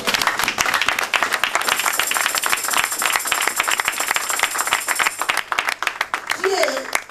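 A church congregation applauds and cheers the Lord with sustained, dense clapping that runs steadily from start to finish, crowd voices mixed in.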